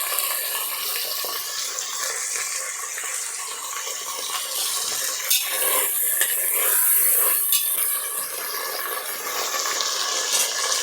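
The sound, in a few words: onions frying in oil for chicken biryani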